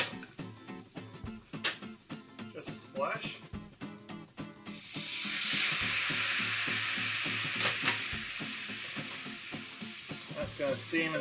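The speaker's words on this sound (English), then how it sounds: "That's gonna steam and sizzle at the same time." Pasta cooking water hits a hot butter pan and bursts into a loud, steady sizzle partway through, following scraping and clinking, with a voice talking over it.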